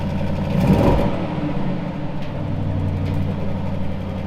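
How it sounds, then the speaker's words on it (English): An Audi A6 Avant e-tron gives a short rev against its soft limiter, a steady mid-low electric drive hum that swells briefly near the start, then settles and holds flat and close throughout. "It's not even worth revving it because of the soft limiter"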